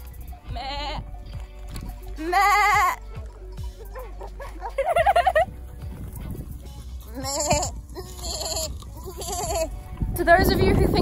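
Goats bleat repeatedly at close range on a van-building trip, several loud, wavering cries from different animals spread across the stretch, with some background noise between calls.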